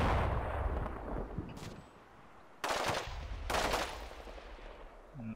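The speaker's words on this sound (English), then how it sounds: "taking some pot shots at those guys" Gunfire in the video game Combat Mission Shock Force 2: a steady rumble of distant battle, then two loud bursts of shooting about a second long each, close and harsh, with no talking.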